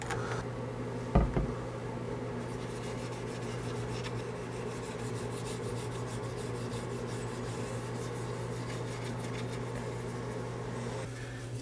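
Continuous hand rubbing of oil finish into a wooden rifle gunstock, a steady close-up friction sound over a constant hum, with one sharp knock near the start.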